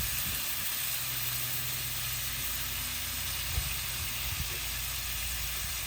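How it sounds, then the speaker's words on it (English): Bacon sizzles steadily on an outdoor grill, a continuous bright frying hiss with faint background noise and occasional small pops. "So you got the eggs and the bacon cooking at the same time."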